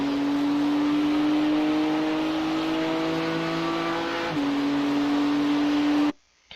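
A race car on the Red Bull Ring in iRacing holds a loud, steady engine drone at high revs. The pitch drops sharply once, as on a gear change, then holds again before the sound cuts off abruptly.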